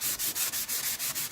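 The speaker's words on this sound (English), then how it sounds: "just take some sandpaper or a sanding block and buff that thing so there's no shine on it" Sandpaper or a sanding block rubs over a playing card in quick, even back-and-forth strokes. The rhythmic rasping is close and steady, with no talk.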